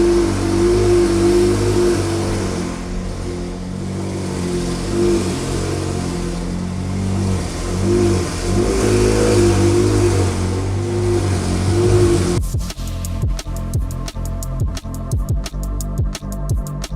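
Stage two tuned McLaren 720S sports car on a road test, its engine rumbling loudly and close for a long stretch, then cracking into sharp, rapid revs and pops at the end.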